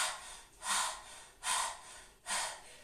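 Three forceful, breathy exhalations during a workout with tightened abs, each a loud rushing puff spaced about three quarters of a second apart, close and without speech.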